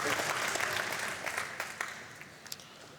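A crowd at a 2018 World Pool Masters match applauding a shot, with loud, dense clapping that swells at first and then fades away over a few seconds.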